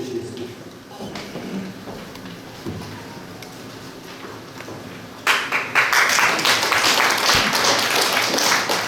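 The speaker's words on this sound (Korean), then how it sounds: "박수 한번 해주세요" An audience at a founders' meeting for a missionary history hall breaks into applause midway, the clapping loud and dense after a quieter stretch of room noise and faint talk.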